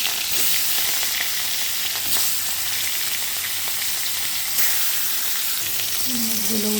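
Marinated rohu fish pieces fry in hot oil with a steady, loud sizzle and crackle throughout, broken by occasional stirring or turning clinks.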